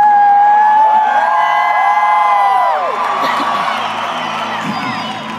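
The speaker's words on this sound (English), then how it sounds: "you're allowed to cheer for your country." A concert audience cheering for their country, a dense roar of whoops and yells close and loud, fading slightly toward the end.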